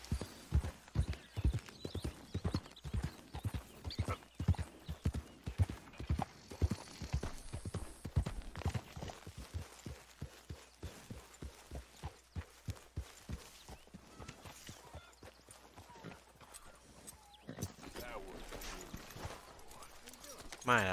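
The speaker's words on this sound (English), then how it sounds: "My, that's a big horse." Horse hooves clip-clop in a steady walking rhythm in the video game Red Dead Redemption 2, close and clear, gradually thinning out, with voices talking intermittently over the hoofbeats.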